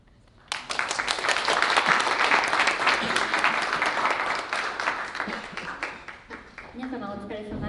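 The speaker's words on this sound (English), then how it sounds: "to give a big round of applause" An audience at an Israel x Japan symposium breaks into sudden, full applause, with dense clapping that holds steady for several seconds and then thins out as a voice begins speaking over the last claps.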